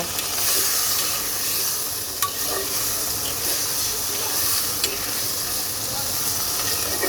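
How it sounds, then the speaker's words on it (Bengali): A little water goes into masala with potatoes and drumsticks frying in oil for a light prawn curry, giving a loud, dense, continuous hiss and sizzle with faint clicks of stirring. "এর মধ্যে এখন দিয়ে দেব সামান্য পরিমাণে জল মশলাটাকে কষানোর জন্য"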